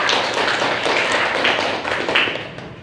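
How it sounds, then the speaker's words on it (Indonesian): A seventh-grade Indonesian class claps for a group that has just presented; a short burst of brisk, close-up hand clapping from the students, fading out toward the end. "Tepuk tangan dulu."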